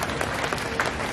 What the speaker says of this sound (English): Can you clap our hands again for them?